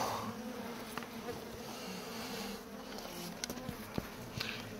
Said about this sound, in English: Now you see we've got a good little mess of bees right here.